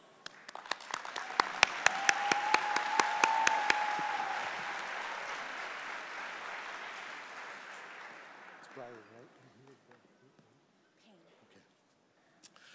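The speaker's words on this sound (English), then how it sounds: "Let's give one more round of applause" Audience applause at a school district recognition night, with loud sharp claps rising, then fading over several seconds into quiet, followed by a speaking voice.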